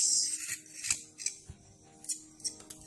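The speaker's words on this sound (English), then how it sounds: "If you don't like the skin, you can scrape it. And scrape it like this." Scraping the skin off a carrot with a metal blade, close up: a run of short, rasping strokes alone, each a quick bright scratch with small pauses between, no voices.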